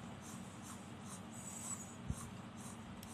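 A pencil shades on paper during a drawing lesson, making quiet, close, rhythmic scratching strokes back and forth with one sharper tap partway through.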